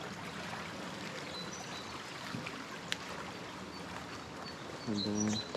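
A peaceful river stream in Calne, Wiltshire, England flows with a steady broadband rush and trickle throughout, moderately near, with a brief low hum near the end.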